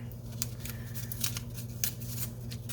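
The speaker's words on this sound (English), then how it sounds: "I'm going to tape this piece right here." Tape is pulled and pressed onto a paper mache armature of a cobra, a series of short crackling snips and rips over a steady low background hum, close and moderately loud; no speech.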